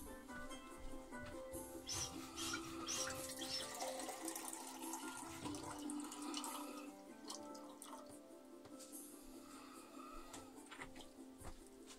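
Water running from a tap into a mug, a steady loud rushing stream with clinks and shifting tone as the mug fills, no talking.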